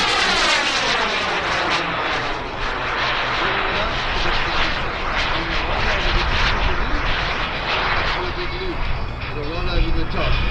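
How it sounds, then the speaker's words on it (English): Loud, continuous roar of a model turbine jet with a 21 kg-thrust turbine and an 18 kg airframe, passing over an air show, with steady turbine whine throughout, crowd noise and talk underneath. "21 kilogram turbine, powering about 18 kilograms worth of jet."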